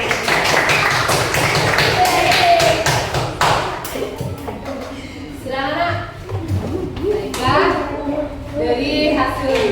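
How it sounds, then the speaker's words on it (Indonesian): Classroom applause and tapping break out after a student group's presentation, a brief burst of claps and thumps up close, followed by children's voices and a teacher talking. "Kasih tepuk tangan dulu."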